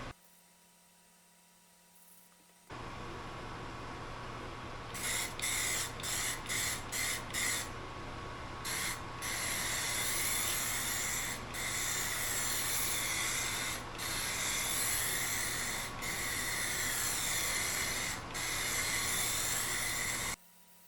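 A spray gun lays the final coat of color onto a 2017 VW Tiguan, a steady loud hiss in a series of long passes broken by brief pauses, over a constant low mains hum.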